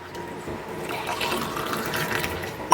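Drumstick (murungai) milk is poured back and forth between vessels to cool it, a continuous liquid splashing and trickling close by that swells slightly toward the end.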